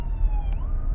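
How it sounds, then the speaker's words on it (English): An ambulance siren wails steadily with a slowly shifting pitch, heard from inside a moving car over a loud low rumble of road and engine noise. "If you hear an ambulance, that's why."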